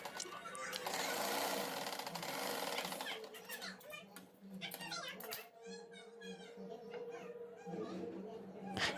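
A sewing machine stitching fabric runs in a steady, close mechanical whir for the first few seconds, then gives way to quieter handling sounds with a voice speaking over it.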